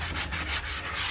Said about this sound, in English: I can come back through and hand sand around this with my sanding block